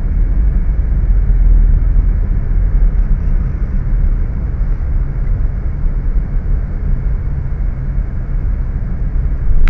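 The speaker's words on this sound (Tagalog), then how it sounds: "Ayun oh, may train dumaan." A train passing during a workday commute in traffic gives a loud, steady low rumble that holds for about ten seconds with no break, and no one speaks.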